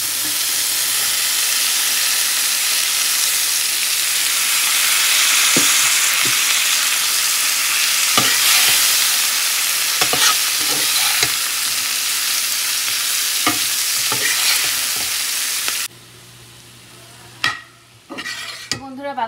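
Cabbage cooking in a pan with a loud, steady hiss of frying and steam, broken by periodic spatula scrapes and knocks as it is stirred. The sizzle drops away near the end, leaving a few sharp clinks.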